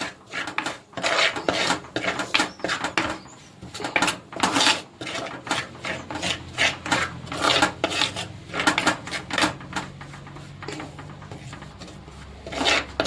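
Coriander powder being roasted in oil and stirred in a pan, with repeated close scraping and clanking of a utensil against the metal in an irregular rhythm, loud and near, no talk.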